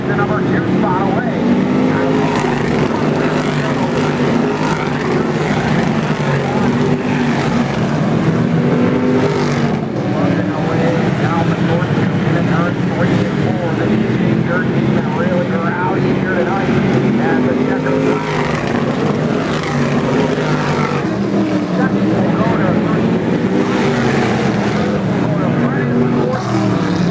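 Race cars circle the Brewerton Speedway dirt oval in heat racing, engines roaring in a dense, continuous drone that swells and fades as the field passes, with a race announcer talking over it throughout.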